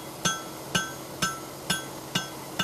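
A farrier's hammer strikes a horseshoe on an anvil in six evenly spaced, ringing metallic blows, each with a bright clink and short decay, heard close with no talking.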